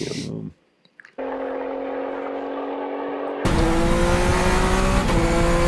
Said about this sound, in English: The sound effect, the engine sound effect, wasn't it?